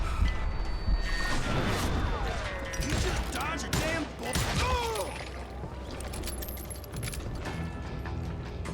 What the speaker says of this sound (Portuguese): Da onde tá vindo esse tiro?